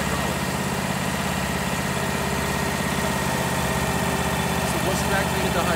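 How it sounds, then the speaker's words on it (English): The engine on an E H Wachs ERV750 valve exerciser idles close by, a loud, steady low rumble with an even vibrating pulse throughout. A voice talks over it. "So now that I've turned the engine on, I can turn this on."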